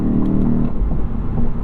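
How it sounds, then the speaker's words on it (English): Engine of a 2021 Lexus RC F revving through gear shifts on a test drive, a loud, steady low drone heard from inside the cabin with slight rises and dips. "Good shifts there."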